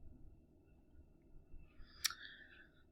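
A single quiet computer mouse click on a web link sounds once, sharp and brief, against a faint low background hum.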